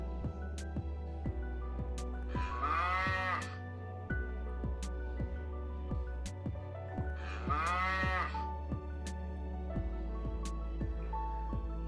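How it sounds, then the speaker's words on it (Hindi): A bull lowing twice, each long moo standing out clearly over a steady background of music. "बैल,"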